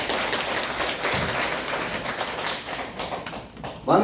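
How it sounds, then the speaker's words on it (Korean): Audience applause at a training session for a mothers' reporter corps, a sustained dense patter of clapping hands filling the room, fairly loud and steady with no talk over it. "이럴 때는 박수를 쳐야 되는데"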